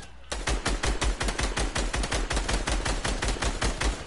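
Rapid, steady automatic gunfire from a minigun in a shooter video game, a loud continuous rattle of dense shots running through nearly the whole stretch after a brief quiet start.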